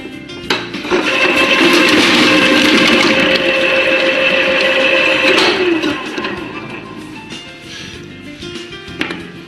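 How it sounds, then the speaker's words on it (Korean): An HMV 200 vegetable cutter slices potatoes into even 6 mm slices: a steady motor whir starts within the first second and runs for about five seconds, then winds down, with a light clunk near the end. "보시는 바와 같이 감자가 슬라이스로 6mm 두께로 일정하게 작업되었습니다."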